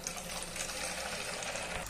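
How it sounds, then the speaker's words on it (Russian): Water runs in a steady, even gush while being filled into a plastic bottle, a continuous close splashing hiss throughout. "Сейчас наберем воды в бутылку."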